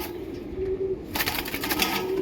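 Fulshira pigeons kept at home give soft, low cooing tones over a steady background, with a few brief rustles that could be wing movement. No one speaks.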